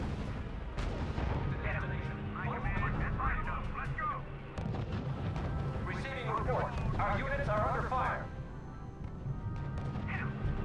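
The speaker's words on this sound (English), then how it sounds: "Our units are under fire." Artillery and gunfire rumble steadily in the R.U.S.E. strategy game, distant booms and crashes rolling continuously beneath radio-style voices talking over the battle.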